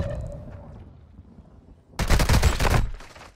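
Dense burst of rapid automatic gunfire in Call of Duty Modern Warfare II, loud and close for about a second, following a quieter stretch of faint game ambience.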